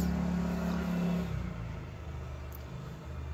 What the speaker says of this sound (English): There's a moped.